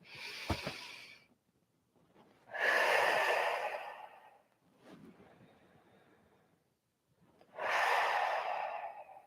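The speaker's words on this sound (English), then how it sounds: "Let's take 2 breaths." Two deep, slow breaths taken during a vagus nerve relaxation exercise, each a long audible inhale and exhale, close and soft, with a brief sniff at the start and no talking.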